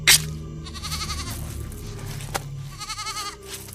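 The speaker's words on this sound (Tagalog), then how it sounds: "ginigilitan niya yung kambing" A goat being slaughtered at a nighttime village fiesta lets out a sharp, loud cry at the start, followed by wavering, strained bleats that rise and fall, close by and with no talking.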